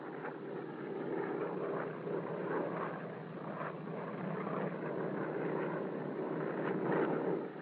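A Curtiss seaplane engine during takeoff as the flaps retract, a steady, band-limited propeller drone with slight surges, heard from nearby on an old recording with no voices.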